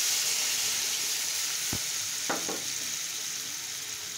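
Beef and potatoes fry in a pan with turmeric and spices, giving a steady close hiss of oil with a couple of brief clinks of a utensil partway through.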